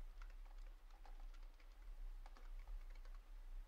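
Typing on a computer keyboard at a command prompt: faint, close key clicks patter irregularly over a low steady hum, with no talking.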